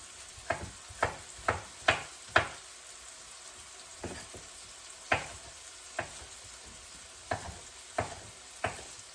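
Sausage and breakfast hash frying together in a single pan, a soft continuous sizzle broken by a series of sharp clacks of stirring against the pan, quiet and close.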